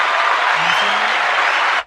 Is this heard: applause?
yes